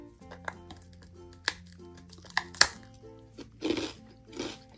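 Several sharp, crisp crunches of a fresh rice cracker, spaced irregularly, then two longer grinding bursts of chewing, close and fairly quiet with no talk.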